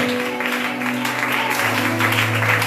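A congregation at a French-speaking church prayer and fasting service applauds and acclaims the Lord, a steady, dense wash of clapping and cheering voices with a held musical drone underneath throughout.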